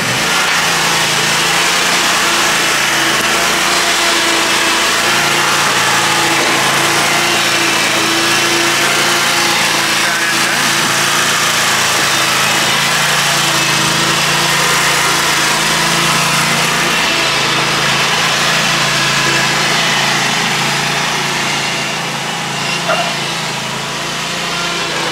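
A Skag V-Ride 2 stand-on lawn mower engine runs steadily and loudly up close for the whole stretch, a constant buzzing drone with no talk.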